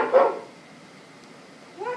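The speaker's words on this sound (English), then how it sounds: "I think it's the white dog." A dog gives two short barks, the first loud and clear, then a pause and a softer, higher bark or yip at the end, alone without other sounds.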